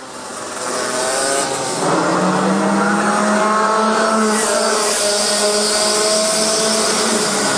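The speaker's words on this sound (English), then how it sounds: "As the track seems to get drier and drier, the cars seem to get faster." Race cars on a flying lap around a drying circuit produce a loud, steady engine roar at close range, with the pitch climbing as they accelerate past.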